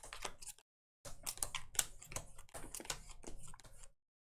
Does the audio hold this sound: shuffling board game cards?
yes